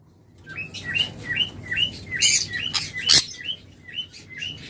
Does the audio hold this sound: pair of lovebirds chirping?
yes